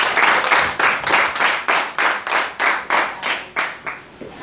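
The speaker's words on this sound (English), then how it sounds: "A round of applause, please." An audience at a debate competition claps in unison for the winners, a loud rhythmic beat of about ten even claps that fades toward the end.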